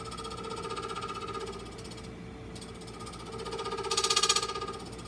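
A lathe gouge takes light scraping cuts on cocobolo wood, with a steady rhythmic whir and chatter from the turning piece and a harsher scrape that swells near the end, close and moderately quiet, with no voices.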